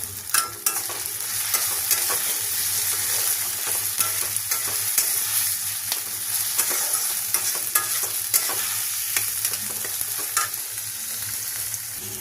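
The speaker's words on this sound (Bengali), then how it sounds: "ভালো করে নাড়াচাড়া দিয়ে দিচ্ছি।" Tomatoes are stirred into chana masala frying in a pan. A loud, continuous sizzle carries close scraping and clinking strokes from the spoon at an irregular rhythm, with no voices.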